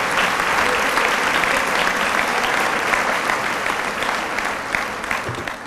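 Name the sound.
applause for award nominees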